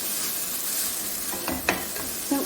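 Chopped or ground onion sizzling in a dry frying pan with no oil, a steady soft hiss with a few louder crackles and scraping clicks near the end, no voices.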